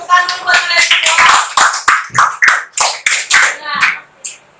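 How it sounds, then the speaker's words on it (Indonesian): A class of students applauding in an Indonesian school classroom, a burst of close, loud hand claps in uneven rhythm over several seconds, with children's voices mixed in. "Tepuk tangan dulu buat kalian semua."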